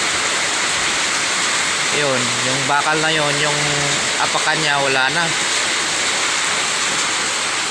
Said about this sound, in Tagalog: Hindi kasi ako makalabas kasi lakas ng ulan